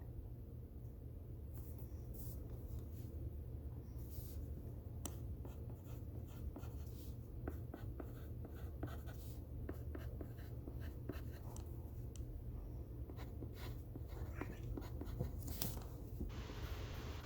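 A pencil scratches across paper in quick irregular strokes and taps, close and soft, over a low steady background hum.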